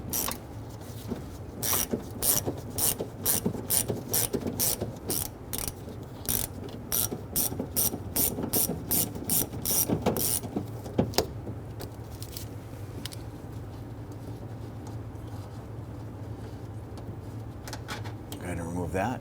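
Hand ratchet clicks in rapid, regular bursts while backing out a 10 mm bolt from a rear exterior door handle on a 2007-2014 Cadillac Escalade, close and crisp, then eases into quieter handling noise.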